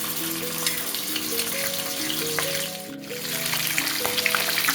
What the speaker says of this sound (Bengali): মাছের মাথাগুলো উল্টো করে ভালো করে ভেজে নিলাম।